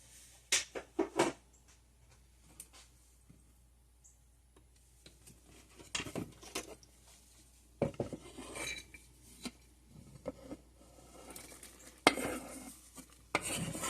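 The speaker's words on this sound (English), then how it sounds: "I'm going to take my onions and garlic and go ahead and put that in" Finely chopped onions and garlic tipped into a crock pot, giving a few sharp clinks and scrapes of a utensil against the pot, some clustered early and others scattered through quiet stretches.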